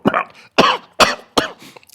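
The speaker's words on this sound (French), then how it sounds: "Il tousse et recrache le fruit." A cartoon character coughs hard four times, each harsh burst followed by a short rasping gasp, as if choking on an acorn and spitting it out.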